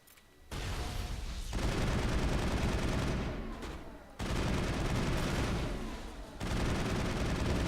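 Bursts of rapid gunfire and booming tank explosions from Mass Effect 1 come in loud waves, separated by brief lulls.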